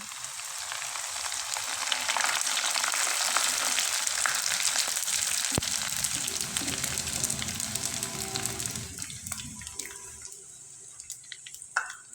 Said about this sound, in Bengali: এবার আমি এখান থেকে কিছুটা পিঠা তেলে ভেজে দেখিয়ে দিচ্ছি